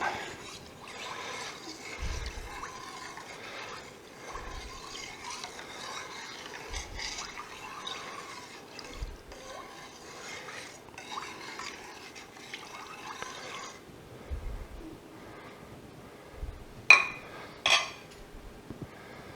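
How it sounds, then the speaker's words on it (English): A spoon stirring a milk mixture in a pot to make cream cheese, soft, regular scraping and swishing strokes with faint liquid sloshing, close and quiet, ending with a couple of sharper clinks. "And then we're going to stir that in"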